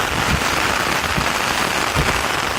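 A short stretch of heavy rain falling in a loud, dense, even hiss with scattered close drop impacts and no voices.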